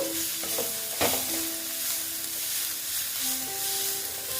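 Spices such as cumin and turmeric powder being stirred in a frying pan for Bengali egg chop, a steady close sizzle with scraping strokes, one sharper clatter near the start, no talking.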